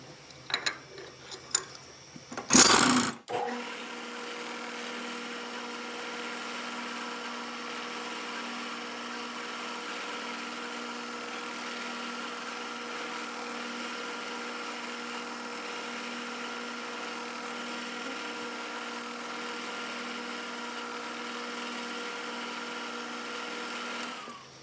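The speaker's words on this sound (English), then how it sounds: "Next we go into number 28 drill and drill all the holes." A drill runs steadily with a number 28 bit while drilling holes in a custom electrical box cover, a sustained whirring hum holding for over twenty seconds after a brief burst of clatter at the start.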